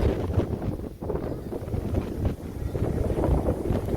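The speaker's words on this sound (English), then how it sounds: "It is crazy windy" Loud gusting wind batters the microphone, a dense rumbling roar that rises and dips briefly before surging again.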